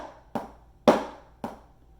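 Drum practice pad or snare struck in single strokes; three sharp percussive hits are clearly heard, the middle one loudest, each with a short decaying ring, close and alone.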